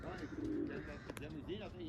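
Racing pigeons coo softly at the lofts while they wait for birds returning from a 100 km old bird race, with low throaty calls and a few chirps under wind and nearby talk.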